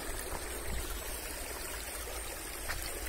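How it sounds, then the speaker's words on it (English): A mountain spring stream in a valley near Munnar flows with a steady, soft rushing and trickling, continuous and fairly distant, with no voices. "This is the beautiful stream"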